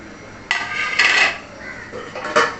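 Metal lid set onto a cooking pot of salted surmai fish curry on a high gas flame, giving a few sharp clinks and clatters in bursts, fairly close and distinct.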